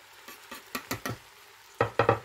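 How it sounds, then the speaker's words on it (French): Onions and garlic cloves frying in a pan for homemade Bolognese sauce, faint stirring scrapes and soft sizzling bursts coming in short separate strokes with gaps of near quiet between them. "Les oignons commencent à se caraméliser."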